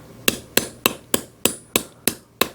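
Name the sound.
hammering jewelry metal flat on a bench block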